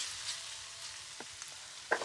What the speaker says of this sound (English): Put the lardons in, starting to sizzle immediately.